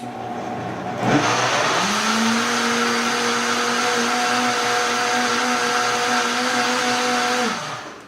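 A kitchen blender whirs through an egg bite mixture, starting abruptly with a rising whine, then running at a steady high pitch for several seconds before cutting off.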